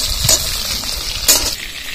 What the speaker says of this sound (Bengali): এইভাবে চিংড়ি মাছগুলো ভালো করে ভাজা করে নিয়েছি